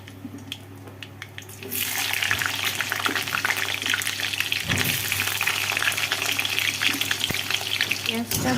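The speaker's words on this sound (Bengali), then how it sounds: "পেঁয়াজটা ভাজা হয়ে এসেছে।" Onions fry in a pan, starting as a faint crackle and then swelling into a loud, continuous, close sizzle that lasts to the end, with occasional knocks of stirring.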